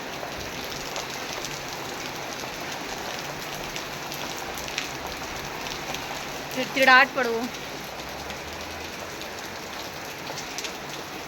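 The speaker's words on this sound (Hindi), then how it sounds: "मूसलाधार बारिश लगी पड़ी है।" Heavy monsoon downpour pours steadily throughout, a dense continuous hiss of rain hammering surfaces, with a short burst of speech briefly rising above it midway.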